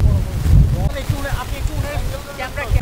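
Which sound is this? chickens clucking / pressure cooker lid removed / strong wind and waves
strong wind and waves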